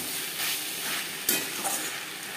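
Potatoes and garlic cloves frying in spices in a pan, a dense, steady sizzle with a sharp scrape or clink as they are stirred, no talking.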